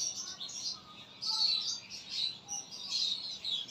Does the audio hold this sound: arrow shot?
no